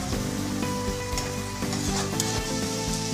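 Chopped onion frying in a pan for a chicken curry, a continuous close sizzle with a few soft stirring scrapes, no voices.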